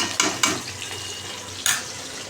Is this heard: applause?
no